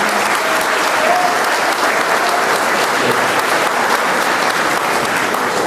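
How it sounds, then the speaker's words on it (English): Sustained applause from an audience at a fallen heroes tribute event, steady and dense clapping that fills the whole stretch without a break. "Please give a round of applause."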